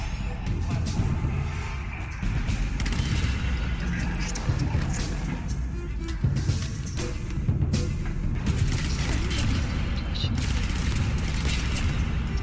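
Sustained gunfire from a Vacker rifle in Fallout 4, a dense, loud run of shots over several seconds mixed with other game noise and some talk.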